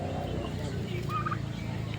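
Three-month-old turkeys gobble outdoors, a short warbling call rising out of a steady low background murmur of the flock.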